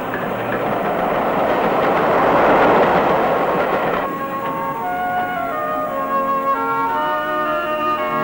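A 1970s train on the Kyle of Lochalsh line in the Scottish Highlands, loud and close with rumbling wheels that give way to a steady engine drone with tonal whine.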